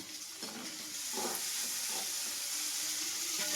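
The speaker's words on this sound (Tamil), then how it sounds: "நாங்கள் எங்களுக்கு பிடிச்ச ஃபேவரட் வெஜிடபிள் போட்டுட்டு இருக்கோம். ஆனியன், டொமேட்டோஸ், பீன்ஸ் அண்ட் இது கேப்சிகம்." Onions, tomatoes, beans and capsicum fry in a pan with a faint, continuous sizzle and hiss, plus a few soft stirring sounds as the heat builds slightly.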